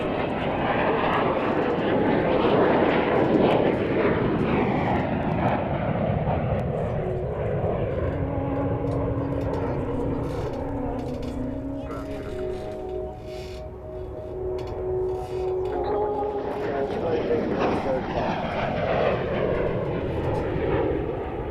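An Avro Vulcan jet bomber flies past with its undercarriage down, a loud, sustained engine roar that swells and shifts in pitch as it passes, with whining tones throughout.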